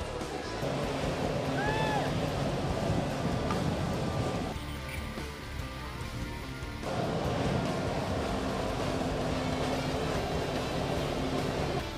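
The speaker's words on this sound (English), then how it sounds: "it takes all the power from the jet ski and sends it directly out through the hose" A steady jet ski engine drone hums over open water while powering a flyboard through a hose, with a brief dip in the middle before the motor noise resumes, moderately distant.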